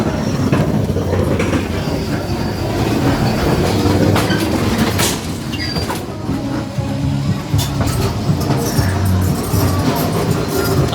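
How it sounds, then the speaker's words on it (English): A fairground ghost train ride at Fun Park Eastbourne rolls along its track with a continuous loud rumble and rattling wheel clatter. Scattered clanks and squeaks sound up close throughout, with no one talking. "we're going inside the ghost train"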